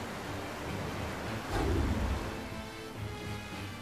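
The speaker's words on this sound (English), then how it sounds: "Oh, hey, it's raining." Rain falling in the Tales of Berseria video game, a steady broadband wash with a louder rumbling surge midway, like distant thunder, then settling back to a constant patter.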